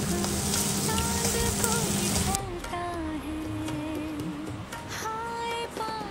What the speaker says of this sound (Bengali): তো তার জন্য আমি এখানে পেঁয়াজ, রসুন, আদা এটাকে ভেজে নিচ্ছি এখন